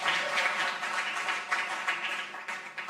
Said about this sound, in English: Can you give the minister and the ministry another round of applause?